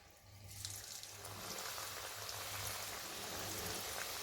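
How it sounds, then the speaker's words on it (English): Pakoras frying in heated oil, a dense hissing sizzle that swells after a brief start and holds steady, close and constant with a low hum underneath, no speech. "I've heated up some oil. I'm gonna fry the pakoras in it."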